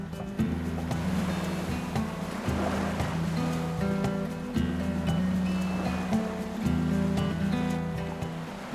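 Ocean swells breaking over reefs at the entrance to Reid Passage, heard as a steady, dense roar of surf and wind noise, with a boat engine humming low and constant beneath it.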